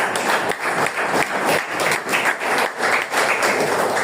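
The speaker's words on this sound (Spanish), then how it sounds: "Dale palmas a Dios." Church congregation at a Spanish-language sermon claps loudly and steadily, a dense, close wash of many hands with a slight rhythmic pulse throughout.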